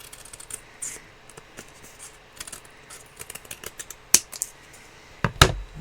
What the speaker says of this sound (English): So I'm just going to cut around this using my scissors.